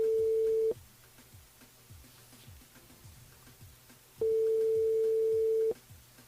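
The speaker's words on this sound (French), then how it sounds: "J'appelle Jean-François du côté du tampon." Telephone ringing tone on a call placed to a listener during a live FM radio show: two long, steady electronic tones separated by a few seconds of low background hiss.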